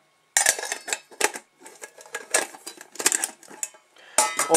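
Stainless steel bushcraft cookware from Tatonka, a pot, lid and plate, clatters and clinks in a run of close metallic knocks and scrapes as the pieces are handled and nested, with no talking.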